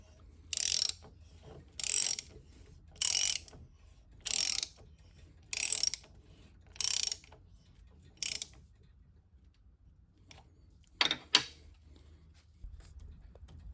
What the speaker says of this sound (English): this will keep the spindle from moving and let me tighten this nut down.